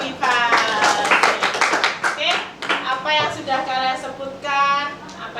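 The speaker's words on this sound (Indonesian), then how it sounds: "Tepuk tangan buat Mbak Afifah" A classroom group claps hands together for a student, with brisk, overlapping applause in repeated bursts, loud and close, mixed with voices and chatter throughout.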